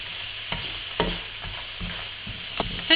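Almonds are stirred in sugar syrup in a pan, candied-almond style. Irregular scraping strokes and rattling knocks fall over a soft sizzle, close up, with no talking.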